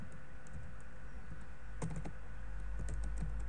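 Light, sparse key taps on a computer keyboard sound close and faint over a quiet background hum, with a brief cluster of quicker presses partway through.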